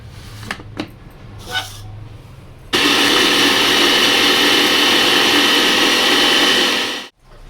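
A few light knocks and clatters give way to an electric chopper whirring loudly and steadily for about four seconds as it chops green chilies, mint and coriander for chicken seekh kabab, before cutting off abruptly.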